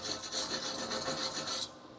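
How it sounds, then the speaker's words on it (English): Sanding on a weld at a truck leaf spring perch makes a harsh, rhythmic rasp in quick back-and-forth strokes, close and steady, which stops abruptly near the end. "Sand the weld, not the metal."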